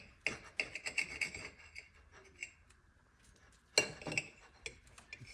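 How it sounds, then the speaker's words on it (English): Knife sawing through a Taylor ham (pork roll) egg and cheese sandwich, giving close, faint rasping and crackling strokes in a quick series and then one sharper cut near the end. "I'm gonna go ahead and cut it right now."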